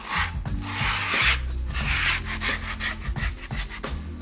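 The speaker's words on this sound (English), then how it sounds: "we fold it over and we rub along the edge of the board" Excess grip tape is folded over and rubbed hard along the edge of a skateboard deck, making loud, close, scratchy strokes that repeat in an uneven rhythm.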